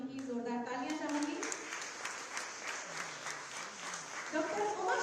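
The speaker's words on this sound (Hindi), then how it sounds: "मैं आप सभी की जोरदार तालियां चाहूंगी" Audience applause at a Uttar Pradesh Day awards ceremony, a steady dense wash of clapping that runs throughout, with a voice speaking over it at the start and end.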